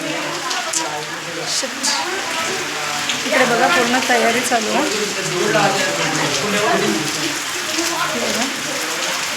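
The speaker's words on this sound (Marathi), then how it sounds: "बाहेर धो धो पाऊस चालू आहे" Steady heavy rain patters and hisses throughout while a person talks nearby.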